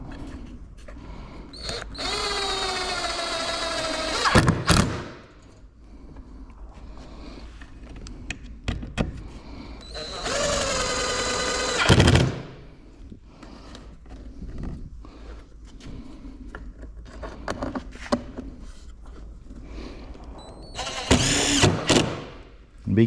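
A power drill drives screws into a wooden cabinet drawer in three separate bursts of rising motor whine, separated by quiet stretches with faint handling clicks.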